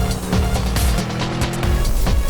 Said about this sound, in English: You hear the rumble of the engine?